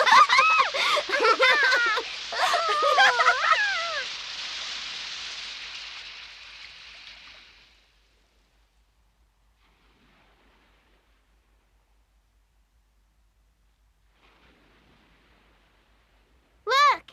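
Warm rain from a short storm hisses steadily, then fades away to silence, with high squealing voices over the start.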